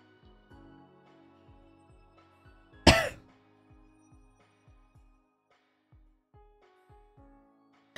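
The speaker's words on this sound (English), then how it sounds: "Sorry, I had a coughing fit." A single sharp cough bursts out once over a quiet background of soft, evenly spaced low thumps, with no other voices.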